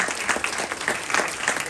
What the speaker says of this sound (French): On peut applaudir. Bravo.